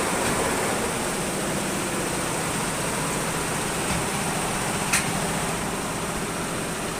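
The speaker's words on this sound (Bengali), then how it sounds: "না এটা হলো এমব্রয়ডারি মেশিন।" Embroidery machines running inside a factory make a steady, dense mechanical whir and hiss that holds unchanged throughout, with one faint tick near the end; no voices.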